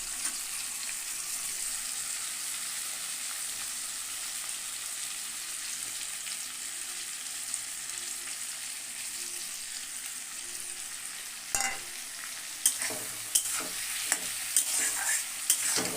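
Soaked spice paste frying in a pan with onion, ginger, garlic and potato for a Bengali egg and cabbage dish, a steady hiss of sizzling oil followed by a few scraping stirs and clinks toward the end.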